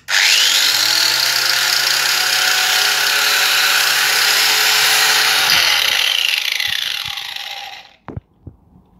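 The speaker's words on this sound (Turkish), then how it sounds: "Bu da taşlamamız. Taşlama da şu şekilde." An Atlas angle grinder from a three-piece tool set whines loudly at full speed close by, holds a steady high-pitched spin, then winds down after about seven seconds, followed by a few handling clicks and thumps.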